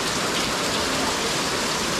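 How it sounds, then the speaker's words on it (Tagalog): Heavy rain falls in a dense, loud, unbroken hiss, pelting surfaces close by with no pauses and no voices. "Grabe ang ulan dito."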